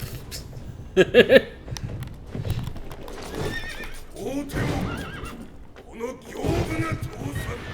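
A horse in the Sekiro video game, set at Ashina Castle with Gyoubu Oniwa, neighs loudly in a short burst near the start, with hoof clip-clops and a voice talking through the rest.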